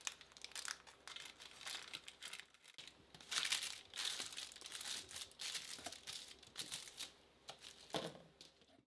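Parchment paper crinkles and rustles as keto maple pecan bars are gently unmolded from a baking pan, a close, continuous crackling with louder bursts throughout and no talking.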